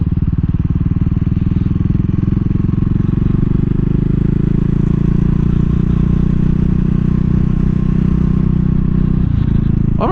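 Single-cylinder engine of a 2022 CCM Spitfire Bobber motorcycle thrumming steadily and loudly while riding, with a continuous low rumble that holds for the whole stretch and a brief clatter near the end.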